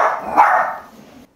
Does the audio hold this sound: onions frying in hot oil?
no